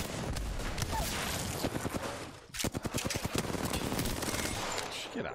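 Rapid bursts of automatic gunfire crackle in an Apex Legends firefight, loud and dense, with a short gap before another rattling volley of shots.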